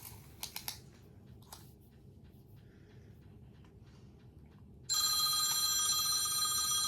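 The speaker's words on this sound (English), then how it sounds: "my phone rang" A telephone rings loudly and continuously in a quiet yarn room, starting abruptly after a few soft clicks and taps from crocheting.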